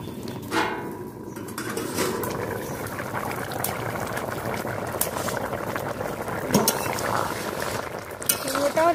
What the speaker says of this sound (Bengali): এই যে জলটা ফুটে উঠেছে